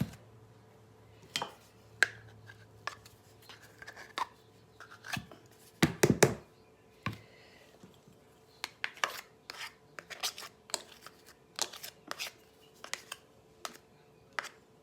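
Crisco shortening being cut and mixed into biscuit dough with a hand tool, sounding as sparse scraping, tapping and clicking strokes against a bowl, close and quiet, with a few louder clunks in the middle.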